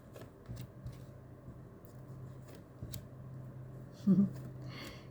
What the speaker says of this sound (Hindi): फाइनल शफल बाबा जी